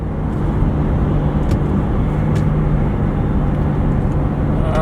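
An Infiniti Q60 Red Sport in Sport Plus mode drops out of fourth gear on the road, its engine a loud, steady broadband roar heard from inside the car, with no clear rev spike and no talk.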